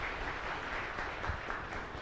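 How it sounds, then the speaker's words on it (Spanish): A church congregation applauds during a Divine Child novena Mass in a chapel, steady dense clapping filling the room at a moderate level throughout. "Y un fuerte aplauso a nuestra comunidad."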